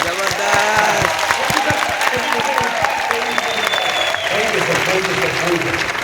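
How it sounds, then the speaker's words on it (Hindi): Audience applause in a hall, a dense, loud, sustained patter of clapping from a crowd, with someone talking through it and a few whoops. "एक बार दिल से ताली बजाओ।"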